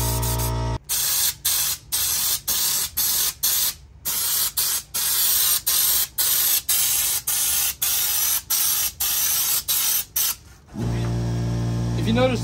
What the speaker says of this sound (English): We also need to spray the underside